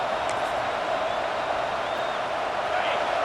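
A steady roar from a football stadium crowd at a Maryland versus Clemson college game during a third-down red zone play, sustained and loud throughout, with faint cheering swells.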